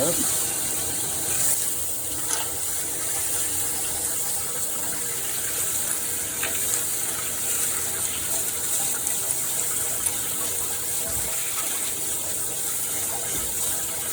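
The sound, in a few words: sink sprayer on shower setting rinsing out a tumbler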